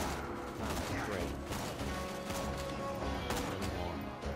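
A grenade goes off during a Borderlands 2 co-op firefight, its blast buried in a steady barrage of gunfire and crashing game effects at moderate loudness.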